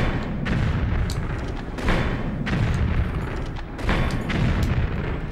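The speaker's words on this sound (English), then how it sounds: "My weapon of choice will be the rocket launcher." Rocket launcher blasts in Tomb Raider 3 boom out in a steady series of heavy, rumbling explosions, loud and close, each burst rolling into the next with no talk over them.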